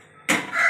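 A plate is set over a cooking pan of masala bhindi, giving one sudden clattering contact followed by a short ringing, scraping settle, close and moderately loud after a near-silent start.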